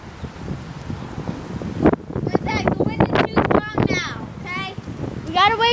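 Wind gusts buffet the microphone outdoors on a cold, windy March day, a rumbling rush that swells and dips throughout while people talk over it.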